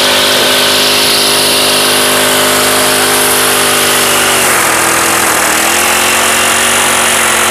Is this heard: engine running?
yes